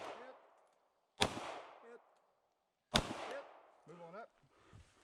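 Two sharp, loud gunshots about two seconds apart ring out at an outdoor run-and-gun shooting stage, each followed by a brief echoing tail and some faint background noise.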